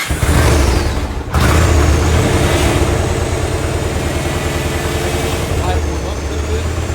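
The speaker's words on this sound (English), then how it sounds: "we're going to fire the bike up yet another time, let it suck more of that oil down into the bike" A 2001 Yamaha Road Star motorcycle engine idling after an oil change, a loud, steady low rumble that carries throughout with a brief dip near the start.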